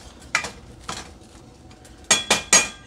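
Onions and jalapenos get stirred in a saute pan, a spoon clinking against the metal in five sharp, separate strikes, two early and three close together at the end, with no voices.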